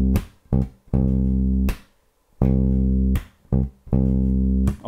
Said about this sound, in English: let's try applying that run by playing a root note of C for four bars